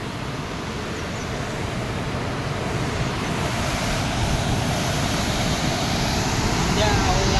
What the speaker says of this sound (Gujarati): આ છે અમારા ડેમના દરવાજા 2 ઇંચ ખુલ્લા છે તો એટલું પાણી હાલે છે